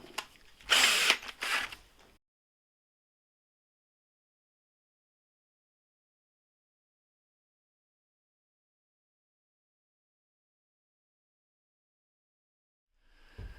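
A power drill countersinks holes in a hydrofoil wing, giving a short, close whirring burst at the start followed by long silence and a faint restart at the very end.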